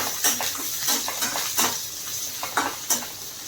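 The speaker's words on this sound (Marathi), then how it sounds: "थोडंसं आलं आपण भाजून घेऊया." Ginger and garlic pieces roasting in oil in a pan, a light steady sizzle under repeated spatula scrapes and metallic clinks against the pan, close and fairly loud.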